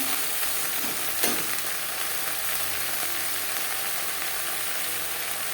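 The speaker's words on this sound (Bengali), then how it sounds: "লবণ হলুদ ভিন্ডির সাথে বেশ ভালো করে মিক্স করে দেবো" Okra stir-fried with salt and turmeric in a little oil for a vegetarian bhindi dish, giving a dense continuous sizzle with a faint scrape or stir near the start, close and even throughout.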